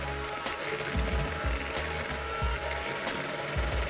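Electric hand mixer running at high speed, whipping cream until thick and fluffy, a steady close mechanical whir with a rhythmic pulsing churn and no talk.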